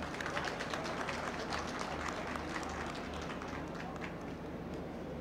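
Sustained, dense applause from an audience at a housing society opening ceremony in Peshawar, honoring the chairman and CEO; steady clapping fills the whole stretch with a faint crowd murmur.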